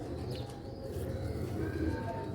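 A Sialkoti pigeon gives soft, low cooing notes close by, a brief murmuring coo over a quiet background.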